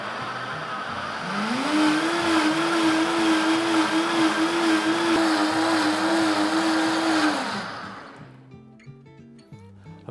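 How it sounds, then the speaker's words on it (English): A blender purees cooked celeriac into soup, a loud steady motor whine that rises in pitch as it spins up and then holds for several seconds before cutting off abruptly, leaving a quieter tail. "So I'm just going to pop this in the blender."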